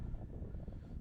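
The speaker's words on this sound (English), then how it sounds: "And it is a windy day today." Wind buffets the microphone at an outdoor high school baseball game on a windy day, a steady low rumbling roar with no talk.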